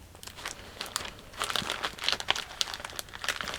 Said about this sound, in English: I am going to use some of these really, really cute canvas stickers though.